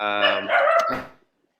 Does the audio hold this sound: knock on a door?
no